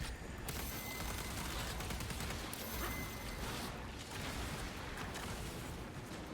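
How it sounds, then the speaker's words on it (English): Artillery bombardment in Space Marine 2, a dense, continuous rumble of blasts and gunfire filling the whole stretch at steady loudness, with no clear breaks. "Okay, they're doing the bombardment."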